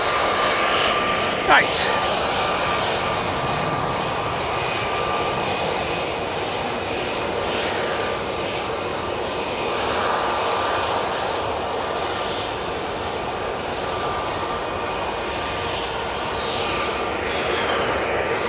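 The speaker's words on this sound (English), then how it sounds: "So that is another A320 Neo, and that is Hotel Foxtrot, and that one will be going to Skiathos" An Airbus A320neo airliner at Manchester Airport, registration ending Hotel Foxtrot, bound for Skiathos, gives a steady engine roar throughout, with a voice talking over it.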